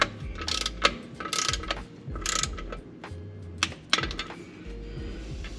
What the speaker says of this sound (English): So we've got our torque wrench set to 23 foot-pounds. We're going to do kind of a star pattern. Let it click over